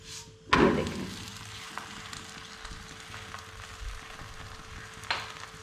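A saag paratha (spinach flatbread) fries on a pan over low heat. It starts with a sharp hiss as it hits, then settles into a soft, steady sizzle with occasional light taps, close and without talking.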